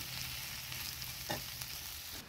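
Okra with roughly chopped coriander sautéing in a pan, producing a quiet, even frying hiss with a single stirring scrape, nearby and alone.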